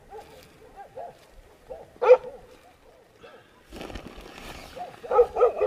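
Night barking from village dogs around a forest camp: scattered barks at moderate distance, one sharp loud bark, then a noisier stretch closing on a cluster of louder barks.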